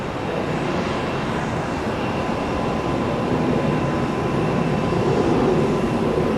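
A jet airliner at Tampa airport roars steadily and loudly throughout, a broad continuous engine and rushing-air rumble with no pauses and no voices.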